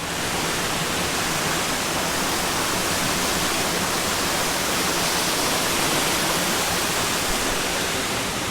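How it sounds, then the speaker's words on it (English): Lilydale Falls in Tasmania pours as a dense, unbroken rush of water, loud and close, a constant roar with no pauses and no voices. "there's a beautiful lower tier of Lilydale Falls"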